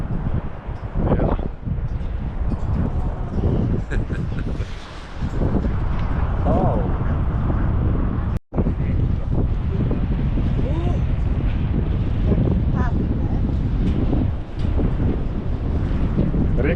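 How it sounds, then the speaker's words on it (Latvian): Strong wind buffeting the microphone near a hanging bridge over a gorge, loud continuous roaring gusts with a short dropout midway, and no clear speech above it. "Diezgan vējaini."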